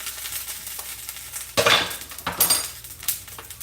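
A spoon scrapes and clinks through a rice dish in a small pot while it cooks, making busy close stirring sounds with a faint sizzle, one louder scrape near the middle, and no voices.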